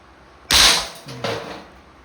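A Crosman MagFire Mission break-barrel airgun fires at a can, one sharp loud crack close up, followed a moment later by a smaller metallic knock.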